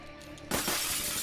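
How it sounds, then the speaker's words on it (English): Glass shattering in Call of Duty: Black Ops III, one loud crash breaking out suddenly after quiet ambience and followed by a spray of falling fragments. "I just broke all the glass"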